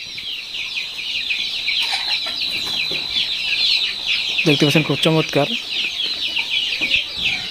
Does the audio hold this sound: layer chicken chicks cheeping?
yes